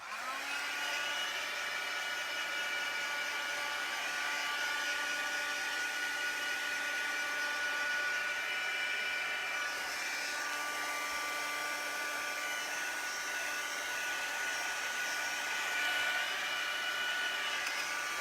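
A heat tool or hair dryer runs steadily while drying a freshly worked art journal page, a continuous close whirring hum with a high whine that holds level the whole time, with no talking over it.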